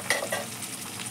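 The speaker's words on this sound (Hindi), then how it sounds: "प्याज हमारा अच्छे से गोल्डन हो गया है, हम उसमें डाल देंगे ये टमाटर।" Chopped tomatoes dropped into golden fried onions in a hot pan for fish curry, a soft sizzle with brief stirring scrapes, quiet and close.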